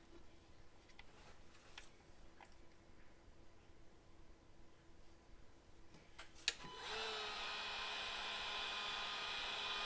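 A hair dryer switches on after a quiet stretch of faint ticks and rustles, then blows a loud, steady whoosh for the last few seconds while drying craft paint on a scrap album cover.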